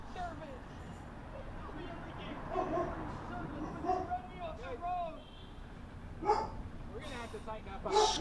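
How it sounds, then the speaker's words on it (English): A dog barks and yips indoors in short scattered bursts, moderately close, mixed with talking and a faint background hum. "Excuse my dog barking."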